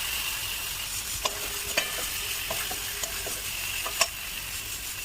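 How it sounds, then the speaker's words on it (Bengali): Spiced potatoes for a vegetarian aloo dum stirred into frying spice paste of turmeric, chilli and sugar, with a steady close sizzle and a few sharp utensil taps against the pan. "মশলা কষা হয়ে গেছে, এবার আলুটা দেবো।"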